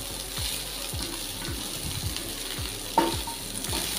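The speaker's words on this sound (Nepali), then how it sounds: "हामीले यो भेजेजहरूलाई चाहिँ 2-3 मिनट जति फ्राई गर्नुपर्ने हुन्छ।" Vegetables frying in a pan for a creamy white sauce pasta, a steady soft sizzle with repeated stirring scrapes at an even pace and one sharp metallic clink near the end.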